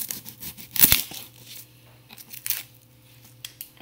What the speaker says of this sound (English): first, you cut off both ends